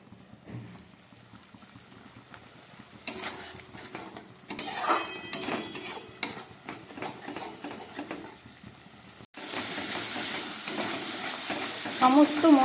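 Egg curry spice paste, loosened with a little spice water, cooks in a pan over medium gas. Quiet scraping and stirring give way to a sudden, loud, steady hiss that continues to the end.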